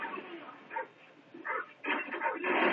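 Attack dogs barking in the video game Modern Warfare 3 survival mode, several bursts of barks and yips close by, fairly loud over steady game background noise.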